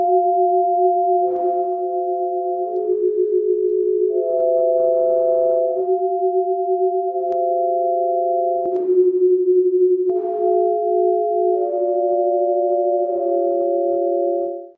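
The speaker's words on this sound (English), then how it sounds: "And then I create sound portraits." Sound portraits of human faces built from tones translated from skin colours: sustained, steady electronic tones layered into two- and three-note chords that shift to new pitches every second or two, continuous and fairly loud with no talking.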